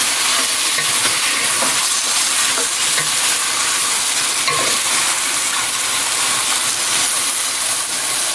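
Zucchini sautés in a pan over a flame, giving a loud, dense, continuous sizzle with a steamy hiss that holds steady throughout, with no talk.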